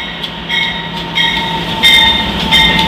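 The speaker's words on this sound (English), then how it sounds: "I believe that is our diesel number 145." An Amtrak P42 diesel locomotive rolls along the rails with a steady low rumble, rhythmic wheel clicks and faint metallic squeals, fairly close and with no voices.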